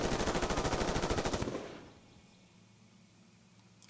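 Gunfire in the turn-based war game Super World War crackles as a rapid burst of shots for about a second and a half, then fades into a quiet tail.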